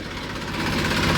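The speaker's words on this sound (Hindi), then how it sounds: "बबलू भाई और अंशी ने टीलर जोड़ लिया है।" A farm tiller's engine runs steadily up close, a continuous rough mechanical drone with low vibration and no voices over it.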